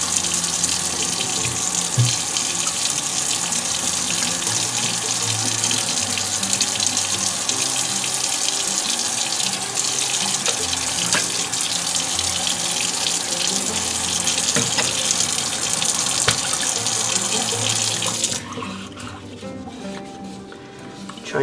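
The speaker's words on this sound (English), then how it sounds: "I'm going to run hot water in the sink." Hot water runs steadily from a kitchen tap into a sink, a loud continuous splashing rush that stops abruptly near the end, leaving quieter room sound.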